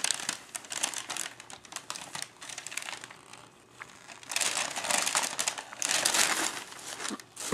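Wrapping paper being crinkled and torn as a birthday present is unwrapped at a child's first birthday, close-up crackling bursts that come and go in busy, irregular waves.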